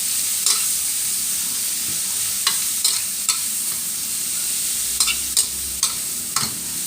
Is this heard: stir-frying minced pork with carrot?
yes